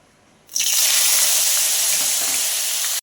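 Onion paste hits hot oil with a sudden loud sizzle about half a second in, then hisses steadily and strongly until the end, no voices.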